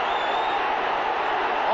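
Steady roar of a large football crowd at a 1981 Celtic versus Dundee United match, sustained disgruntled noise reacting to an offside call, loud and continuous with no distinct claps or cheers.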